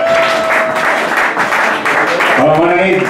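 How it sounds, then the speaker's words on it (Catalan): A crowd at a live music show in Ripollet gives loud, continuous applause, with voices and some tonal sound mixed in under it. "Un fort aplaudiment."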